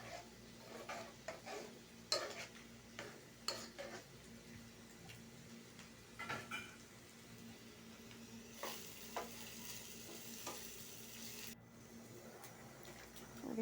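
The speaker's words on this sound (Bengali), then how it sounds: "পেঁয়াজটা দিয়ে দিলাম।" Onion and tomato fry in a pan in a home kitchen, a faint, steady sizzle broken by soft scraping and the clack of a stirring utensil against the pan.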